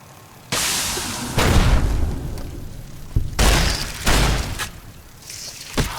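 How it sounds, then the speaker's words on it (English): Heavy shotgun blasts in Fallout: New Vegas boom out one after another, five or six loud discharges with echoing tails spaced about a second apart. "Shotgun."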